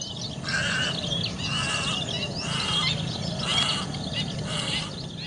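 Migratory water birds on the east coast of Aceh call in repeated harsh bursts about once a second, fairly close, over a constant noisy background.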